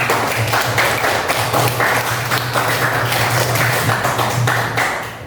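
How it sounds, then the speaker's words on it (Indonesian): Applause from students and teacher in a classroom, a steady dense patter of many hands clapping throughout, fairly close and loud. "beri tepuk tangan untuk kita semua"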